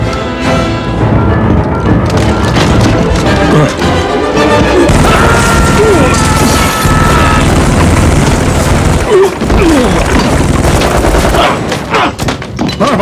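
Automatic weapons fire in an action film scene, dense bursts of gunshots and crashes over a loud, continuous battle mix with sustained intensity throughout.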